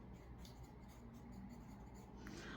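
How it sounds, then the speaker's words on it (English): A pen writes on a paper weekly meal plan, giving a faint, continuous scratchy rustle of strokes close by, with no talking. "So if I write pork stew"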